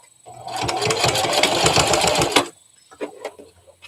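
A sewing machine stitches in a quick burst of rapid mechanical clatter lasting about two seconds, then stops abruptly, followed by a few faint clicks and handling noises.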